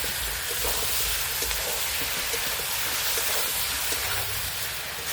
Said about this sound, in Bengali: মাংসটা ভেজে দিলাম